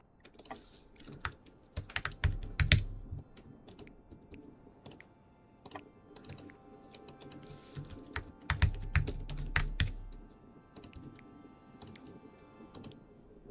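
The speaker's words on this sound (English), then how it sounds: "my mic is picking up my keyboard tapping a lot" A computer keyboard clatters with steady typing while custom maps are made in Worldbox. The clicks are close and crisp, with a few heavier clustered strokes and short pauses between runs.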